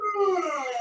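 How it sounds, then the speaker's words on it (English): A dog gives one short, fairly faint, wavering howl, close by and with no other sound. "And I'm sorry about my dog."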